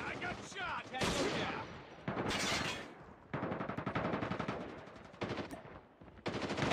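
Rapid automatic gunfire from the mobile shooter Call of Duty Mobile crackles in repeated bursts, loud and close, with short gaps between volleys and game voice callouts mixed in.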